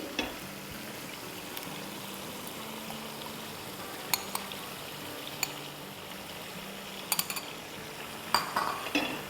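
A spoon stirs yogurt into mutton in a pot for achar gosht, giving a soft, continuous scraping and sloshing with a few sharp metal clinks against the pot.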